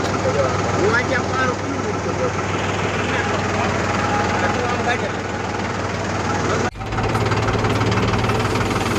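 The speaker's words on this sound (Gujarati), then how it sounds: "હું ટ્રેક્ટરમાં બેઠો હોઉં ને પંખો જો અત્યારે ચાલુ કર્યો, એ પંખો બંધ કર્યો, ચાલુ કરીને દેખાડું કેવો અવાજ છે" A Mahindra tractor engine runs steadily with its cab fan switched on, a continuous close mechanical drone with knocking texture that briefly dips near the end before resuming.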